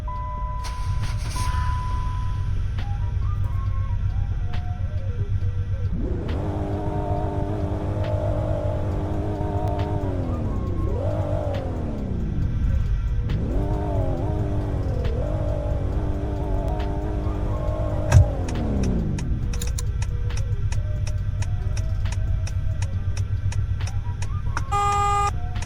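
A luxury car engine cranks and catches, its pitch sweeping up and falling back in repeated revs over a steady low idle rumble, with rain-like patter and rapid electronic beeps in the background.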